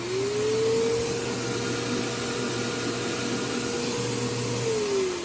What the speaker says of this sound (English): And this is the vacuum.